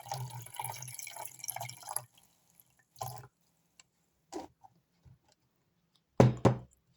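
Compote poured into a homemade fly trap, giving a short gurgling trickle of liquid up close, then scattered drips, clicks and two brief louder splashy bursts separated by silence.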